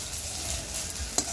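Fritters frying in a pan over a wood-fired stove, a steady close sizzle and crackle with a small clink near the end and no voices.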